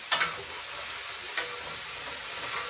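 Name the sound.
ground beef frying in a pan, stirred with a spatula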